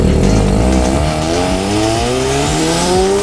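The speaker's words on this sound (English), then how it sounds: "when you do get onto it, you hear all those whooshes of the turbo" A turbocharged Mazda RX-7 rotary engine revs up loud and close, its rising tone climbing steadily with airy turbo whooshes over a smooth, continuous drone.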